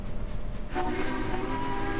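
A train rolls into a station on the steep Saluda grade without stopping, a steady close rumble swelling after a moment, with tonal horn-like hum lines sustained over continuous rail noise.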